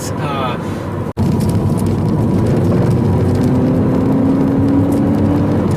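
A 2014 Honda Civic Si with a six-speed manual pulls hard through the mid and upper revs, a steady loud engine drone with a rising whine after a brief cut, heard from inside the car.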